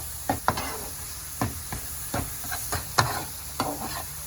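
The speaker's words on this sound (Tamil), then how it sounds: "இதில் வந்து 1 கப் தேங்காய் சேர்த்துறேன். நல்லா திருவி வச்சுருக்கேன். அதை சேர்த்துட்டு நல்லா மிக்ஸ் பண்ணிடலாம்." A spoon stirs grated coconut into melted jaggery in a pan, scraping in a steady series of short strokes over a faint sizzle. The sound is close and there is no talking.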